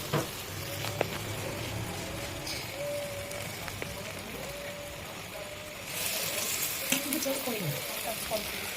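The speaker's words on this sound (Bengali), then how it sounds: "এই যে ব্যাটারটা দেখছেন, এটা আমরা চামচের সাহায্যে তুলে তুলে 1 চামচ করে দিয়ে আমরা ভেজে" Spoonfuls of dal wada lentil batter frying in hot mustard oil, a continuous close sizzle that swells louder partway through as more batter goes in.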